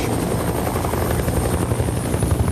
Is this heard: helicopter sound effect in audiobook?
yes